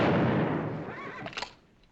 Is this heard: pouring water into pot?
no